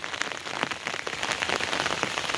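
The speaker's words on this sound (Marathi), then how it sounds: "पाऊस जोरदार लागलो आणि पाणी पण एक नंबर इलेला आमच्याकडे" Heavy monsoon rain pours down on a Konkan village, a dense, steady roar of drops drumming on surfaces that stays loud and unbroken throughout, with no voices.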